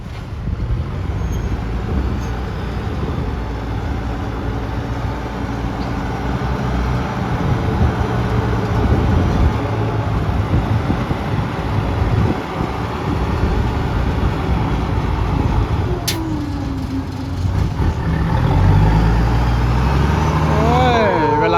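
A 10-wheel dump truck reverses to tip soil at a creek dredging site, its diesel engine rumbling loud and close, swelling louder toward the end, with a voice talking over it at times.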